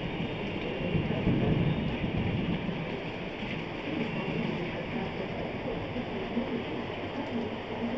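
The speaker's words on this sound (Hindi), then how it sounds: "देखिए कितना मूसलाधार जो है बारिश हो रही है, वो भी अत्यधिक पर्याप्त मात्रा में।" Heavy downpour in Surat, Gujarat, a steady dense hiss of rain pounding surfaces with low rumbling thunder beneath, continuous and fairly distant, with no talking.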